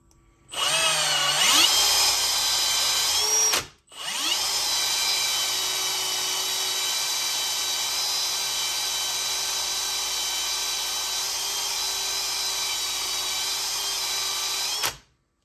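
A power drill spinning an RC car tire wrapped in a towel revs up and whines steadily, stops for a moment, then runs again at a constant high-pitched spin for about ten seconds before cutting off.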